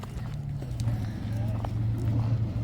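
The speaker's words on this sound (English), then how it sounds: "It does look like they actually have some pony rides for the kids, so that's cool." Ponies plod along at a kids' pony ride, their soft hoof clops steady beneath nearby talking.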